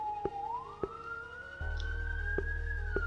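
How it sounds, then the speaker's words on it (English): Police sirens wail outside, a steady rising and falling tone with the low hum of an emergency vehicle growing louder midway, heard indoors without talk. "Apparently there's sirens going."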